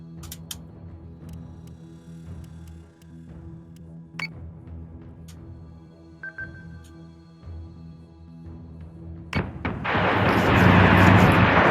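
Space battle in Battlestar Galactica Deadlock, with warship guns firing in a steady low rumble of repeated shots and booms, scattered sharper reports, then a loud swelling roar of heavy fire toward the end.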